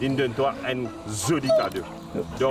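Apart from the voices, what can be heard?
No everyday noises stand out.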